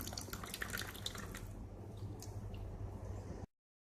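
A thin jet of water streams from a tank in a school science demonstration, giving a quiet, continuous splashing trickle with scattered drips that thin out before the sound cuts off.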